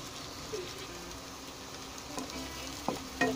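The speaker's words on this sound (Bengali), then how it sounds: "এখন আমি পেঁয়াজ অল্প বাদামি কালার করে একটু ভেজে নিব" Sliced onions fry in oil in a pan as the base for prawn tomato bhuna, a soft, quiet, continuous sizzle with a few sharper stirring clicks and pops toward the end.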